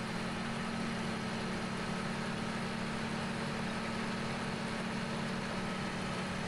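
A John Deere tractor pulling a cultivator in the Farming Simulator 17 video game gives a steady, unbroken low engine drone, with a constant hum and no change in pitch.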